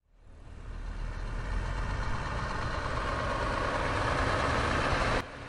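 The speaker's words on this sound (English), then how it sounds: "All of a sudden, the pumpkin truck passed by." A heavy engine rumbles steadily from start to finish, loud and sustained like a truck rolling past, with the noise cutting off abruptly near the end.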